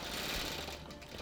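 A longarm quilting machine stitching feather patterns on a quilt top with variegated thread, giving a brief, steady mechanical whir with a fast stitching rattle.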